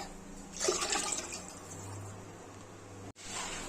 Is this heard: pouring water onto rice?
yes